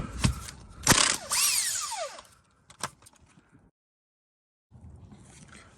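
Pneumatic impact tool buzzing out 17 mm bolts on a 1991 Audi 20V Avant's rear suspension, two loud bursts followed by a whining rundown, then scattered clanks and a pause before quieter shop noise returns.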